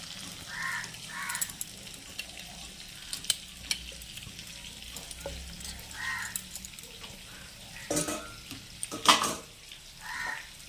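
Spice masala frying in hot oil on a home stove gives a steady close sizzle with intermittent stirring scrapes, while faint bird calls sound now and then in the background.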